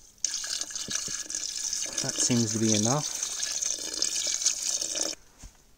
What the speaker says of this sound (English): I just put water right up to the top of the veg.